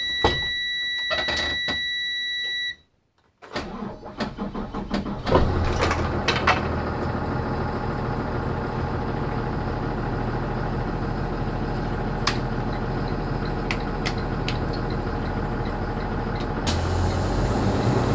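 A 2011 Thomas Saf-T-Liner C2 school bus with 86,000 miles starts up: a warning chime and beeps, a brief silence, then the starter cranks and the diesel engine catches into a loud steady idle with air-system hisses.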